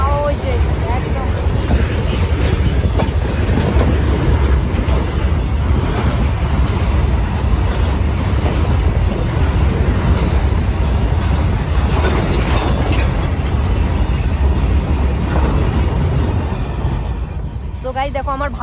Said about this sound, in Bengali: তো দেখো ট্রেনটা চলে যাচ্ছে ওই দিকে একদম।